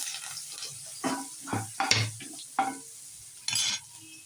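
Mustard seeds, cumin, asafoetida and onion sizzle in hot oil for a potato bhaji, heard as quiet crackling bursts and stirring scrapes that come and go.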